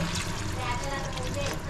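A full glass of water is poured into a cooking pot of veg Diwani Handi, a soft continuous splashing trickle heard faintly and close for a couple of seconds.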